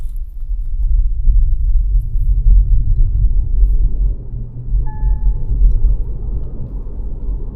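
Inside a Mahindra XUV 400 EV accelerating in Fast mode: a steady, deep rumble of road and drivetrain noise, with a faint thin whine briefly rising above it midway.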